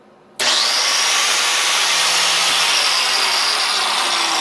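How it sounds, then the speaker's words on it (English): An 8 amp angle grinder powered from an inverter starts abruptly after brief quiet, then runs at a loud, steady high-pitched whine close by. "Can I start a 8 amp grinder?"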